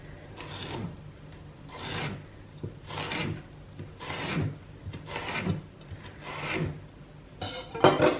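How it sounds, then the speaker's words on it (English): A knife finely slicing a vegetable for a prawn cocktail makes about seven regular rasping strokes roughly a second apart, close and clear, with no voices. "And now I'm going to really finely slice it."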